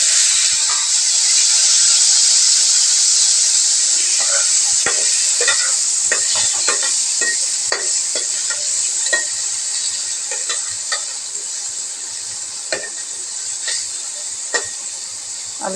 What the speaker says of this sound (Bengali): এবার আমি তেলটা দিয়ে দেব, দিয়ে আলুটাকে ভেজে নেব।